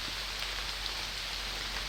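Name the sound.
rain falling outdoors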